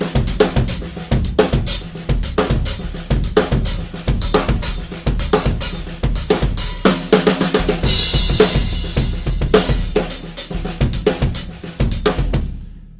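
A drum kit plays a steady, dense groove in seven with repeated sharp hits and cymbal wash, loud and close, no voices.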